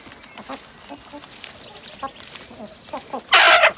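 Chickens peck and cluck softly nearby, scattered short clucks and tapping, ending in a louder burst of noise.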